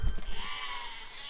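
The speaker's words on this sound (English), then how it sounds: "See, the sheep were cheering as well." A sheep bleat from the physics-building video game Besiege, one short wavering cry over low rumbling game sounds, fairly loud and close.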